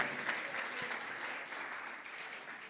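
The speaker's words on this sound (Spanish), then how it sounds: "Espósito, fuerte ese aplauso." An audience applauds after a singer's semifinal performance in a singing competition, a steady, dense round of clapping heard at moderate distance and sustained evenly for a few seconds.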